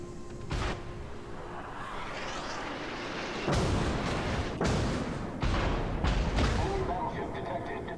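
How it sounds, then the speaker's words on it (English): Heavy naval gunfire from a warship video game, booming salvos that break out in several loud bursts over a steady rumble of battle noise. "I do like the gun sounds."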